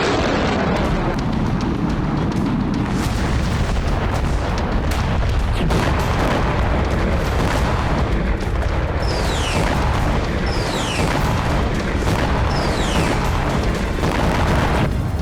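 A dense, continuous roar of rumbling blasts fills the recording, with a few high whistling streaks cutting through near the end.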